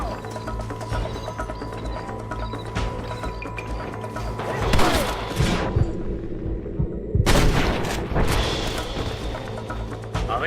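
Gunfire in the Red Dead Redemption video game during a shootout, a dense, continuous wash of shots and clattering mechanisms layered over game music and ambience, with a brief drop-out midway before the din resumes.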